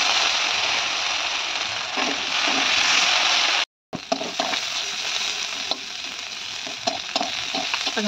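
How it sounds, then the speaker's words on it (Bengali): Cut potatoes fry in a pan with greens and bitter gourd in a Bengali home kitchen, giving a steady loud sizzle with stirring scrapes and clinks, briefly cut off near the middle. "তো এখানে আলুগুলো একটু ভেজে নিচ্ছি শাকে।"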